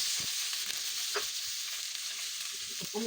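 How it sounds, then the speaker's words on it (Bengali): Chili paste fries in a pan for a katla fish curry, giving a continuous bright sizzle broken by soft scraping stirs, with no talking. "বাটা মরিচ দিয়ে দিলাম, নেড়ে করে নিচ্ছি।"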